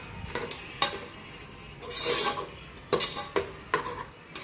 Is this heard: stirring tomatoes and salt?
yes